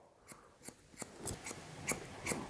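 Scissors cutting hair straight across to a blunt line, a close, crisp series of about eight rhythmic snips in quick succession, with no voices.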